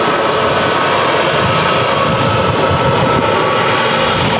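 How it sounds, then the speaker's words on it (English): An Airbus A321neo airliner with Pratt & Whitney engines lands at Manchester Airport in strong crosswinds, its engines giving a loud, continuous roar that holds steady throughout, with wind noise mixed in. "I can hear some Pratt & Whitneys on this aircraft."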